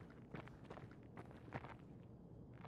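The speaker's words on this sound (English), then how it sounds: "I can hear two sets of footsteps." Two people's footsteps in a multiplayer shooter game, a faint, uneven patter of steps that overlap at times, quiet and fairly distant, with no voices.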